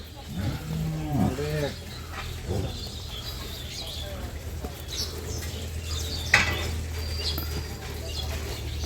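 A large cow on a cattle farm gives a couple of deep, drawn-out moos early on, close and fairly loud. Steady farm ambience follows, with a sharp knock later.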